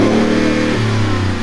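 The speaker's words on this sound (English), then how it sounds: "Yeah, give that a little rev." Supercharged V8 in a VelociRaptor truck revs hard, a loud, close, steady roar with no voices.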